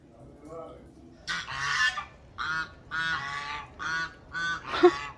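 Loud, harsh quacking calls from a duck, about six bursts in a row at close range, with quiet background in between.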